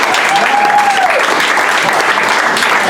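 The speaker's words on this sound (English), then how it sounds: "Can we have one more applause for Take Me Home?" An audience applauds the improv show Take Me Home, with steady, dense clapping for about three seconds in a small venue.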